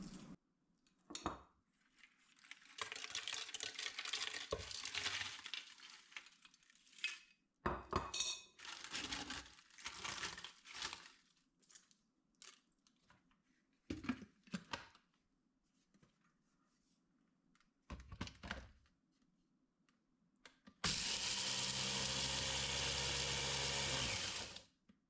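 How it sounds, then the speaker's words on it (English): A kitchen food processor pulverizes eggshells and kitchen scraps in several short, loud bursts separated by quiet pauses, ending in one longer continuous whirring run. "I pulverize them in my food processor"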